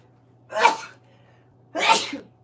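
Two sharp, explosive sneezes about a second apart, close and fairly loud, over a quiet room with a faint low hum.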